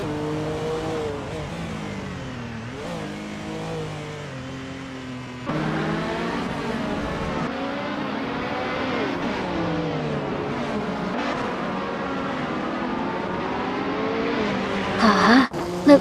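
Engines of AI-driven race cars in a racing video game whine and rise in pitch continuously, shifting gears with steady revving, with a louder burst near the end.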